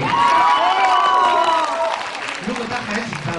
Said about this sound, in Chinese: 就需要你们掌声鼓励